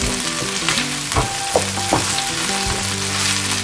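Onions and carrots fry in a pan with ginger, giving a loud, continuous sizzle close by, punctuated by a few sharp stirring clacks and scrapes.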